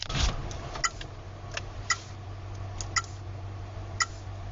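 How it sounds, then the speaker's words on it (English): Faint, sharp ticks sound roughly once a second at an apartment complex, steady and isolated against a low background hum. "What's that ticking sound?"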